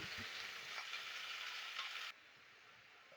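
Radish greens fry in a pan with a loud, steady sizzle for about two seconds, and then the sound drops abruptly to a much quieter background crackle.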